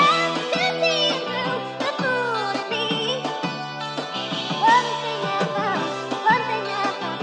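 Chopped samples from a soul song, rearranged into short melodic fragments with sustained chords and a singing voice, played alone and fairly loud with choppy start-stop edits.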